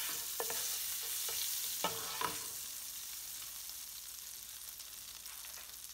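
Shrimp frying in butter with garlic, a soft steady sizzle heard close up, with a few light utensil clicks and stirring scrapes early on before the hiss settles into an even bubbling.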